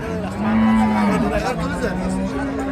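A large dairy cow at a cattle market gives a long, loud, close moo that wavers in pitch, with faint crowd chatter behind it.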